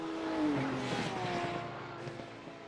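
A black and yellow BMW race car in a video game, its engine droning with a rising and falling whine and faint tire scuffs, loud and continuous with no talking.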